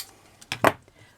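Scissors cutting through ribbon for a handmade flower patch: two quick, close snips in near silence.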